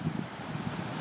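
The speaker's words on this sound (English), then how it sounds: "The breeze here on the ocean is very nice" An ocean breeze blows along the shore in Oecussi, Timor-Leste, with a low, steady rush of wind and surf. It is soft and continuous, with no voices.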